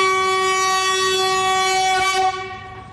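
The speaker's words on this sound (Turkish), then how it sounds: "Tren Bakü'den aldığı yolcularıyla Kars'a doğru ilk kez hareket etti." A train horn blares in a loud, steady, sustained tone on the Baku-Tbilisi-Kars railway, then drops off sharply near the end.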